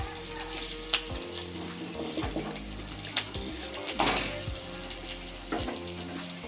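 Pabda fish frying in oil in a pan sizzles loudly and steadily up close, with intermittent crackles and spattering bursts.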